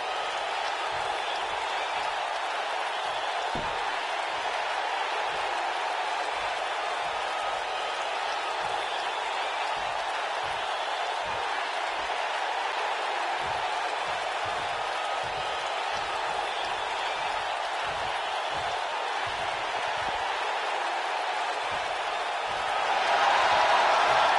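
Arena crowd in a WWE 2K19 wrestling game, a broad steady roar of cheering and applause held for the whole stretch, swelling slightly at the end, with scattered low thumps beneath.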